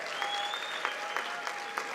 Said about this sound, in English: let us applaud everyone who has participated